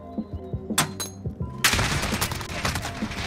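FN SCAR 17 rifle firing in Modern Warfare, a few scattered sharp shots giving way to a loud, dense, sustained burst of rapid gunfire up close.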